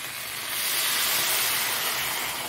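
Water poured into a pan of hot, fried-down spiced curry throws up a loud, steady rush of steamy hiss that swells after the first half-second and holds for about two seconds.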